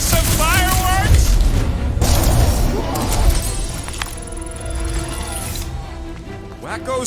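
Heavy booming blasts and crashing impacts erupt in a Guardians of the Galaxy video game battle, loud and close at first, then fading into rumbling debris and mechanical noise, with game voices mixed in.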